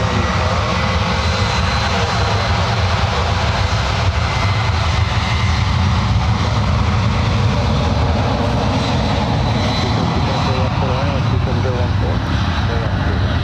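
An ABX Air heavy jet takes off from runway 1 right at San Francisco International Airport, its engines producing a loud, continuous broadband roar that holds steady throughout.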